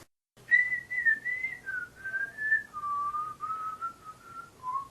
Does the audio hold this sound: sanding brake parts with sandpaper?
no